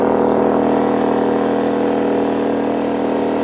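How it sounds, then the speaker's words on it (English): A GENMAX GM3500Xi open-frame inverter generator runs under load from an air compressor and 2,000 watts of lights, giving a loud, steady engine drone with a constant low hum throughout and no talking. "Compressor's on."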